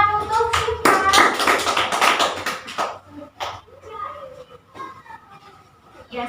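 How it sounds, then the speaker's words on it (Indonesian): Classroom of children clapping hands, a loud burst of fast, uneven claps in the first few seconds, then sparse taps and scattered claps under children's chatter. "Beri tepuk tangan untuk kita"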